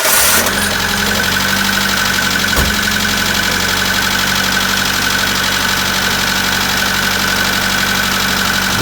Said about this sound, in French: vous restez à côté du moteur pendant que ça tourne